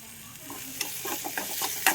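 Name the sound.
sautéing coriander powder in pan for egg curry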